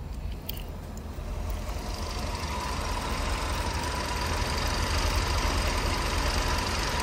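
A 1985 Chevrolet C4 Corvette with 19,000 miles runs close by, its engine holding a steady idle that swells slightly louder and rougher partway through, with no voices.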